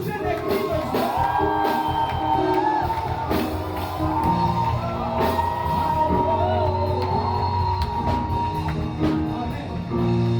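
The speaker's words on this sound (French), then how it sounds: "Est-ce que tu peux pousser les cris de joie?" A church congregation at a Sunday worship service shouts and whoops for joy, a loud, sustained crowd roar of cheering voices with music underneath throughout.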